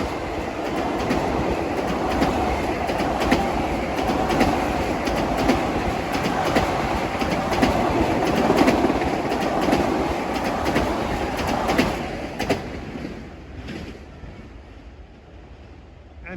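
A Long Island Rail Road commuter train bound from Huntington to New York rolls past Nassau Tower in Mineola on track 2, a loud, steady rumble with clickety-clack wheel beats that fades away over the last few seconds.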